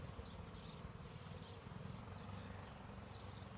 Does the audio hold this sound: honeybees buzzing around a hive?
yes